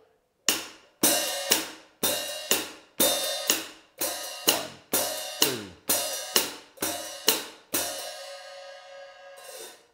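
A drummer plays a hi-hat heel-splash pattern, the foot opening the hats on each 'and' between quarter notes, giving about a dozen crisp, evenly spaced splashes that each ring briefly before closing, then a final open wash fades out alone.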